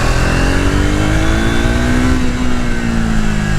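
A Triumph Speed 400 motorcycle engine runs as the throttle opens, a loud, close, steady engine tone that climbs slightly in pitch across a few seconds, with no voices.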